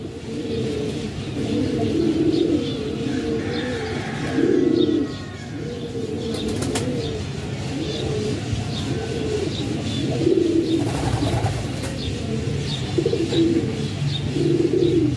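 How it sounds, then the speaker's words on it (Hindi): Several pigeons coo in a loft, repeated rolling throaty calls in a steady rhythm, close and fairly loud, with light chirps, a passing car and occasional clatter in the background. "ये माशाल्लाह से ब्रांड बनाने वाला कबूतर है माशाल्लाह।"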